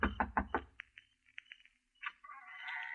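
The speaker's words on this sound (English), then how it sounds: "I kept knocking." Knocking on a door as a radio drama sound effect: four firm, evenly spaced raps up close, then quieter scattered sounds and a soft rustle or hiss.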